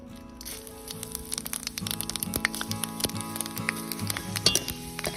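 Panch phoron five-spice seeds crackle and pop as they hit hot oil after asafoetida, with a steady sizzle and scattered sharp snaps close up, building through the clip while a Bengali vegetarian mixed-vegetable dish is cooked.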